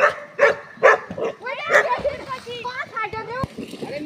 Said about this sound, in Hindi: ये देखो हमारा डॉगी भी